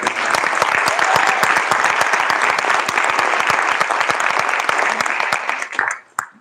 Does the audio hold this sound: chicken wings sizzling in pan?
no